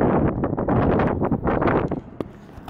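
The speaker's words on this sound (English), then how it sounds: "The wind going crazy over there." Strong gusts buffet the microphone in rough, uneven bursts, loud rumbling blasts that ease off toward the end.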